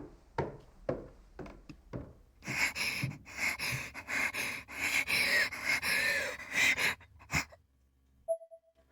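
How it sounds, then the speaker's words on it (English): A woman in an audio drama gasps and pants erratically while her body convulses; close, ragged, breathy bursts arrive in an uneven, rapid rhythm, then die away into near silence with a faint tone at the end. "Her breathing became more and more erratic as her body rocked with convulsions."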